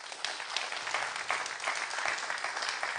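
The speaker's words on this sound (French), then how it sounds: "Je voudrais de grands applaudissements pour l'ensemble des nommés de cette soirée." Audience at an awards evening for a regional business event in Hérault, Occitanie, applauding the nominees: dense, steady clapping that holds for the whole stretch without a break.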